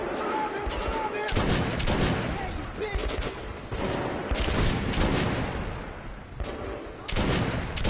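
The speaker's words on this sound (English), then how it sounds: "this shotgun really blows them back though when it hits" Shotgun blasts from the video game Metro Last Light Redux, loud, heavy booming shots recurring every second or two over dense in-game noise, with a voice talking between them.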